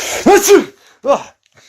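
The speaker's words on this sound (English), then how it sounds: "Oh, excuse me, I got a sneeze coming on." A single person sneezing: a drawn-in, voiced buildup and burst, followed by a shorter second vocal exhale, close and loud with brief silence between.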